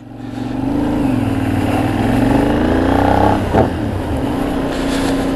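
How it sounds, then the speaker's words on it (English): A 2020 Benelli 752S motorcycle engine revs up and down loudly and close by, its exhaust note rising in pitch, dipping, then settling into a steady throaty rumble. "I never get tired of that sound. That exhaust is superb as well."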